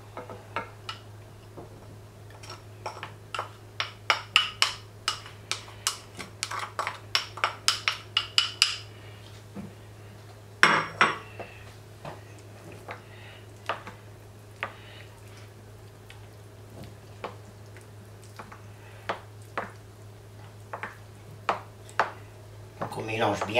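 A spoon mixes rice into pancake batter in a bowl, knocking against the sides in a quick run of sharp clinks, then slower scattered taps.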